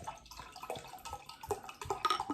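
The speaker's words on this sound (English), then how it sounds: "Let's crack them open and see which one is going to win." Lennox Scottish lager pours from a can into a glass, a close, bubbly, fizzing trickle with small splashes and dripping patter lasting a couple of seconds, with no talking.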